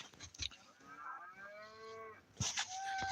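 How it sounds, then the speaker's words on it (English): Angus beef cattle moo out in a field, a couple of long drawn-out calls at moderate distance, faint against quiet outdoor background with no talking. "You guys hear them cows out there?"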